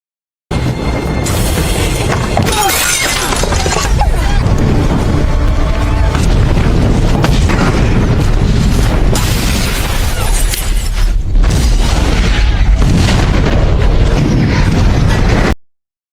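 A massive explosion in a film scene erupts in loud, dense rumbling booms and shattering debris, with a crash of breaking glass and continuous roaring chaos for many seconds before cutting off.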